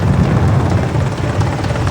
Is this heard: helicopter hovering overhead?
yes